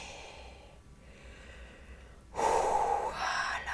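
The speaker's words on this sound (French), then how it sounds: "Et on continue à inspirer profondément. Et à souffler." During a guided meditation, a slow, soft breath is drawn in, then a fuller, louder exhale follows, close and breathy against a quiet background.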